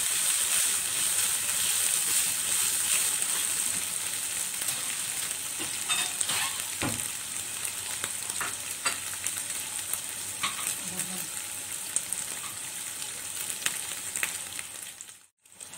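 Syrian shawarma meat fries in a pan, a steady hissing sizzle broken by clinks and scrapes as it is stirred, close and continuous until a sudden stop at the end.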